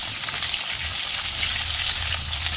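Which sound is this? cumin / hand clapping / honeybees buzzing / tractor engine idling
cumin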